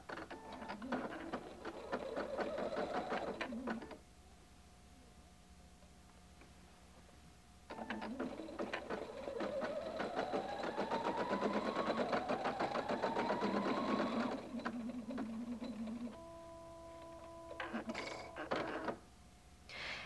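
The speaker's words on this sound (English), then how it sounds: "Touch Rotate once again to sew the design in the left lower corner." A Husqvarna Viking Designer 1 embroidery machine sews a design in long bursts of rapid, rattling stitching with a rising motor whine, broken by quieter pauses with a soft electronic hum between runs.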